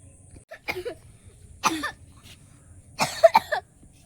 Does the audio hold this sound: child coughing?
yes